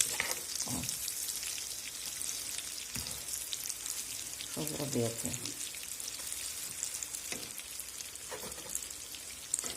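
Steady sizzling and crackling of food frying in a pan over medium heat fills the clip, with a few short spoken words and light clinks over it.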